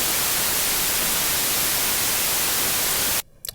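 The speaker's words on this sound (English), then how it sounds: "so we hear the white noise" Steady, loud hiss of white noise spread evenly across all pitches, continuing unbroken for about three seconds before cutting off abruptly into near silence.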